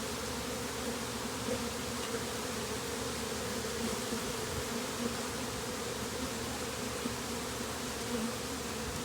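Dense, steady buzzing of a swarm of bees around a tree in a gazebo in late March, a continuous drone that stays close and unbroken with no voices.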